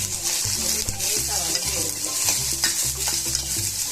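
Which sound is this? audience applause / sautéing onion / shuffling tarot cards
sautéing onion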